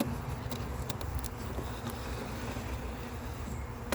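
A honeybee colony in an opened hive, lid off over the brood area, hums in a dense, steady buzz close by, with occasional louder passes of single bees, no talk.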